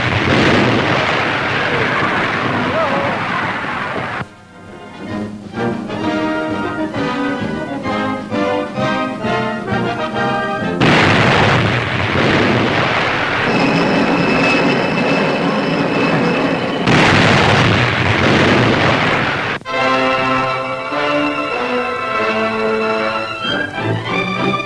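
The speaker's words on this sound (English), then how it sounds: "United States artillerymen roll out ammunition for the huge disappearing guns that are a part of America's elaborate coastal defense system" Huge coastal defense disappearing guns of the US artillery firing, heavy booming blasts with long rumbling roars and rolling echoes, loud and repeated in bursts over a dense wartime newsreel soundtrack.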